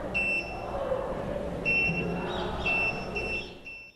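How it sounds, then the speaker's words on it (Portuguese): A firefighter's locator device, built for crews fighting flames, gives off repeated high electronic beeping tones in short bursts over a low background rumble. No one speaks. "À medida que eles se aproximam, o alarme soa."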